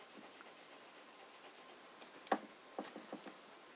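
A fountain pen with an italic nib scratches and rubs on paper, laying down a patch of ink in soft, close strokes with a few brief louder taps near the end, faint and quiet.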